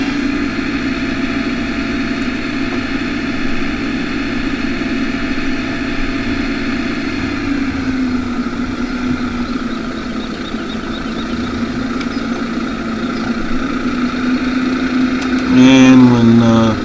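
A motor vehicle engine runs steadily close by after a hard throttle, settling into a loud, even idle with a slight dip in tone midway and a short rattle near the end.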